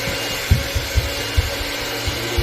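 An electric mixer running on high through sugar cookie dough gives a steady, loud whirring drone, with soft rhythmic thumps as the beaters churn the dough, and no voices.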